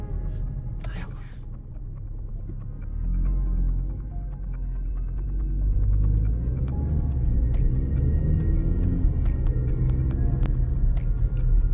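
A 2022 Haval Jolion with a DCT gearbox drives around Cresta Mall. A low engine and road rumble carries on throughout, with a faint indicator-like ticking near the end and a voice talking over it.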